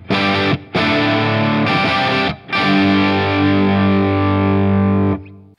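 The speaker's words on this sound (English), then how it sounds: "So my amp already has a crunchy tone and it sounds like this." An electric guitar through an amp with an already crunchy overdriven tone plays sustained, distorted chords loud and close, with two brief breaks between them before a long ringing chord fades out.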